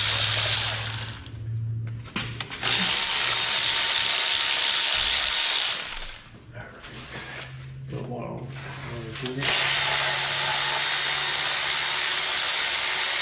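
A ratchet loosens the valve cover bolts on the Ford 289 V8 of a 1965 Mustang during an engine teardown, in loud bursts of rapid clicking separated by brief pauses and handling noises.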